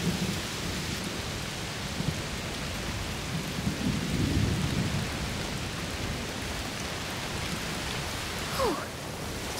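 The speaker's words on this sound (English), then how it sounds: "Must be a heat storm." Thunderstorm in A Plague Tale: Requiem: continuous heavy rain hiss with a low rolling thunder rumble swelling in the middle, no voices.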